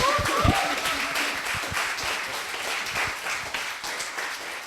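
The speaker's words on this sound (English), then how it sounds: "can we have a round of applause for James" A graduation-day crowd applauds steadily throughout, a dense continuous wash of clapping from a roomful of people, moderately loud and unbroken from start to finish.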